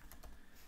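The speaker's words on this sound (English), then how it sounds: "you can start typing" A computer keyboard is typed on in a note-taking app: a few faint, quick key clicks in a brief, quiet moment.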